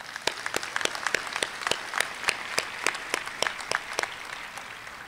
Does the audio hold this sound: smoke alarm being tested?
no